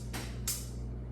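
Logic Pro X hi-hat track in a reggae beat, a few crisp bright ticks spaced out over a steady low hum, fairly quiet and with no talking.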